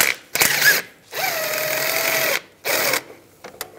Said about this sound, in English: Using a 13mm socket, I'm going to go right down here, a long extension. Take that nut off that bracket right there.